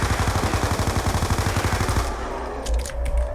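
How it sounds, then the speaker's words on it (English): Rapid automatic gunfire from a submachine gun in the Call of Duty zombies map Mob of the Dead, loud and steady for about two seconds before breaking off into scattered in-game effects. "I'm just kind of training them around and shooting them whenever I feel like it"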